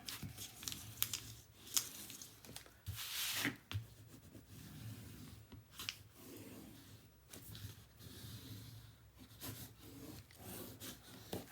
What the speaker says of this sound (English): it's really important that you burnish really, really well